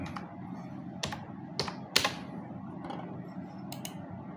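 Computer keyboard typing while entering horn and trombone parts in music notation software: a few scattered sharp key clicks at an unhurried rhythm over a steady low room hum, close and moderately quiet.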